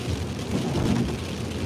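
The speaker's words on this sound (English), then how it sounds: "It's starting to rain a little bit here. As you can hear, it's starting to come down." Rain falling outdoors makes a steady, dense wash of low rumbling noise with no distinct drops standing out.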